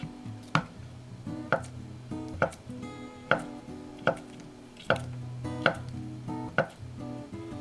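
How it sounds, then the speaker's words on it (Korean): A knife chopping through 120 g of Spam into long strips on a cutting board, with about a dozen sharp, evenly spaced thuds close up and no talk. "스팸 120g은 반을 갈라서 길쭉하게 썰었다"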